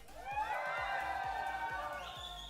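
A packed crowd at a Guwahati LAN esports watch party for the Northeast Cup semifinal cheers and whoops loudly for team IGN, a dense roar sustained throughout over a steady thumping music beat.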